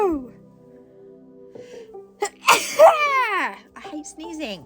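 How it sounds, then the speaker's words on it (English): A single sneeze bursts out mid-clip, sharp and close, preceded by a sharp intake of breath and followed by a short vocal sound, all in an otherwise quiet room. "I'm gonna sneeze."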